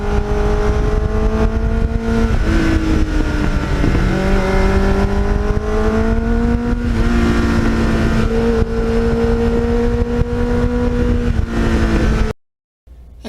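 A Kawasaki Ninja motorcycle fitted with a Muzzy exhaust revs steadily and loudly up close, its high whining engine note rising and shifting like an Indy car for about twelve seconds before cutting off abruptly.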